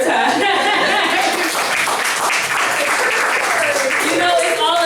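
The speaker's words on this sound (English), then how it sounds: "Clap Joy up one more time" An audience at a spoken-word event applauds in a dense, loud, continuous burst of clapping that holds steady for several seconds, with voices mixed in.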